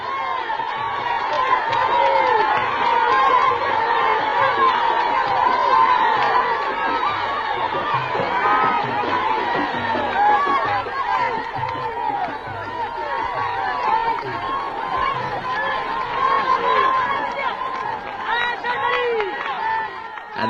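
A vast crowd gathered at a desert camp in the sands fills the air with steady loud chatter, shouts and occasional cheering, a dense continuous din that holds for the whole stretch.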